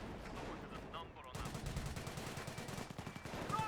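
Gunfire from a Company of Heroes 2 match: a steady clatter of shots with a few louder cracks, continuous under the game's background noise with a denser burst about halfway through.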